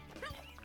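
A small cartoon dog gives a single brief, faint yip under background sound, with no other barking following.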